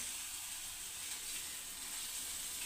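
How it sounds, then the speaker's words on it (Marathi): Fennel and poppy seeds dropped into chilli and ginger frying in oil produce a soft, even sizzling hiss that holds steady throughout, faint and without distinct stirring sounds. "आता त्याच्यामध्ये घालू बडीशोप, खसखस"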